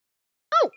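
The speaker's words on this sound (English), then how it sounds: "Oh, my phone's ringing." A phone ringing in the visual novel game Chaos Child: after silence, one short, bright electronic chime with a bending pitch sounds alone, then fades quickly.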